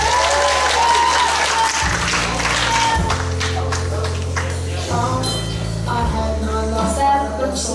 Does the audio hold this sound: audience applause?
yes